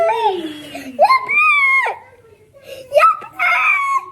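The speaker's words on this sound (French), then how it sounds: "Arrête de crier, ma chérie." A young girl screams and wails loudly at close range in several drawn-out, pitch-sliding bursts, with brief quieter pauses between them.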